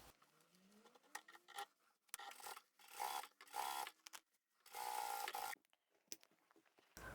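A sewing machine chain stitching a narrow top stitch on printed upholstery fabric for zippered bags, running in several short quiet bursts with pauses between, close and alone.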